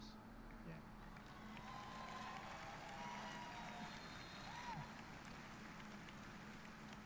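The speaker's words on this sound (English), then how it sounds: "So people cheer for Elder Scrolls Blades" A live crowd at Bethesda's E3 conference cheers and applauds in a steady, dense wash of noise that holds for several seconds, with scattered whoops rising above it.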